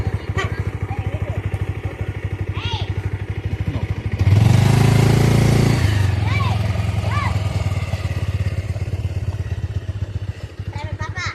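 A motorbike comes along a rural road, its engine putting out a rhythmic low thudding that swells loudest midway, while people talk nearby.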